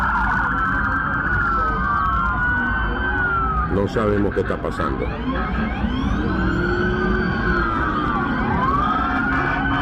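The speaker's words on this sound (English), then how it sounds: "they're continuing to like blare their sirens" Several police car sirens blare at once near a Miami mall, wailing and sweeping in overlapping tones for the whole stretch, loud and close, while a person speaks briefly over them.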